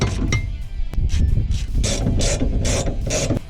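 A ratchet socket wrench clicks in quick repeated bursts while loosening 16mm bolts on a racecar's drivetrain arm, close and fairly loud over a low background rumble.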